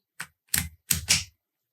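Key scraping gravelly into a Paclock 90-A padlock, close and fairly quiet: four short rough bursts, the last two running together as the key is pushed in.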